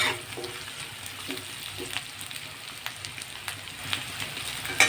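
Raw vegetables with onion sizzle and crackle steadily in a frying pan for a puishak dish, a dense close hiss with small pops throughout and no talking.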